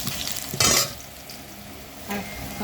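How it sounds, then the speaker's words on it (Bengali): Potatoes fry in a pan for a home-style meat curry, with a hissing sizzle that swells in two brief bursts as they are stirred, then settles to a quieter steady fry, with no voices. "আলুটা খুব সুন্দর করে ভেজে নিতে হবে, লাল লাল করে বন্ধুরা।"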